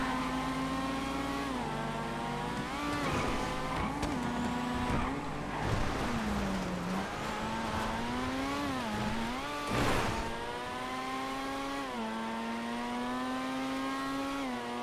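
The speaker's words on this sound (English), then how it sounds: "that Futo just flies through the chicane" Racing cars in the GTA FiveM video game, including a Futo through a chicane, with a loud continuous engine roar rising and falling through gear shifts and revs, close and steady for the whole stretch.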